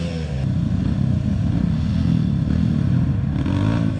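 A motorcycle rides along a dusty rural road between Umiray, Dingalan and General Nakar, its engine a steady, continuous low drone close by, with faint rattling and no talk.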